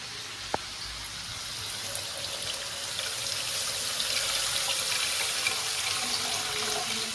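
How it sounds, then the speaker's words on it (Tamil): Tamarind water poured into a pot of simmering rasam in a home kitchen, a steady liquid stream and trickle running for several seconds at moderate level, with a brief clink near the start and no talking. "இப்போ நம்ம ரசத்துக்கு புளி தண்ணி சேர்த்துக்கலாம்."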